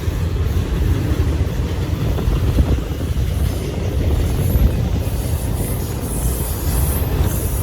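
An Autorax freight car, a gigantic articulated two-unit railroad car, rolls past in a freight train near Dayton, Ohio, making a steady loud low rumble throughout, buffeted by strong wind gusts.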